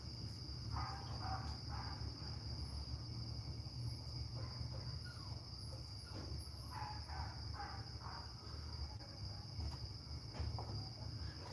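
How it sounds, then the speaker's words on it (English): Insects and crickets chirp in a steady, faint outdoor chorus that runs throughout, with occasional bird calls rising above the constant high buzzing. "So many insects."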